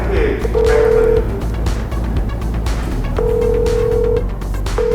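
A phone ring tone plays over a speaker in two long steady beeps separated by a pause, with background chatter around it.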